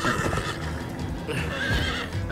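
A horse whinnies in a Minecraft: Story Mode game scene, a loud neigh over continuous galloping hoofbeats and dense game ambience.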